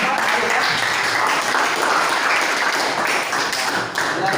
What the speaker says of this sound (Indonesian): tepuk tangan untuk Ayu ya.